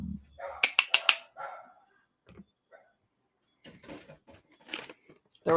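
A dog barks in a quick cluster of several sharp barks, followed by scattered quieter sounds and a few more faint noises, close by with long near-silent gaps.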